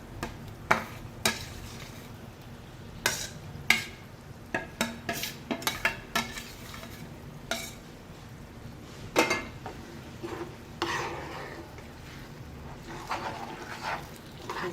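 Ingredients for red Schezwan chutney sauté in a pan over a low sizzle, broken by repeated sharp knocks and scrapes of a spoon against the pan.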